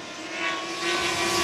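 A camera drone flying over a mountain gives off a steady, close whine with a sustained tonal hum over airy rushing noise, swelling slightly as it goes.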